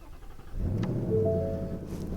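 A 2020 Ford Mustang GT starting up from inside the cabin: a brief starter whirr catches into a deep, rising rumble that settles into a steady, throaty idle.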